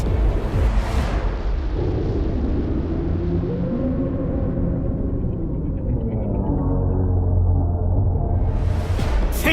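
Torpedoes explode underwater in the video game Aquanox Deep Descent, a deep, loud, sustained rumble with a whooshing burst at the start and another rising near the end.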